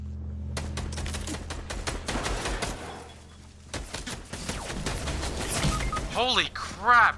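Rapid bursts of gunfire in a video game, coming from many directions as sharp repeated cracks layered with voices talking over the action, with a couple of whooshing sweeps near the end.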